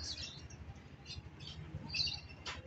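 Pigeons returning to a rooftop on a rainy afternoon in Navotas, giving brief, faint chirps and calls scattered over a low, steady background rumble.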